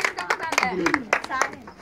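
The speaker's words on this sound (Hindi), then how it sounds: "हालेलुया जोर से ताली बजाएंगे।" Children at a Sunday school clap loudly in a quick, rhythmic run of sharp hand claps, with an adult voice speaking or singing over them.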